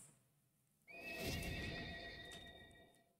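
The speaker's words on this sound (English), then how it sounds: "hopefully they make the horse noise go away when you mount the when you mount the flying carpet" A horse in a video game lets out one loud, drawn-out neigh as it is mounted, with a faint clop of hooves beneath it.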